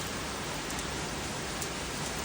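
Steady rain pours down in a dense, even hiss with no pauses or voices.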